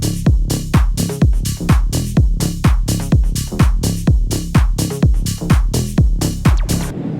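Work-in-progress electronic music track with a freshly replaced kick and tweaked clap, pounding a dense, loud four-on-the-floor beat with layered synths and hits, steady throughout before cutting off near the end.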